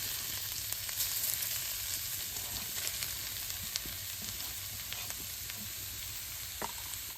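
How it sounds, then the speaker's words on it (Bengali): Pumpkin frying in ghee in a pan, a steady bright sizzle throughout with occasional soft clicks from stirring, close and even in level, no speech. "এই যে সুন্দর করে বাইজা নেবো,"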